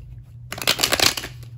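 A quick burst of tarot cards being shuffled, a rapid riffling flutter lasting about a second, close and fairly loud.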